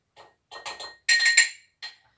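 A level teaspoon of powder is tipped into a glass, giving a quick series of light, close clinks of metal against glass with short silences between them.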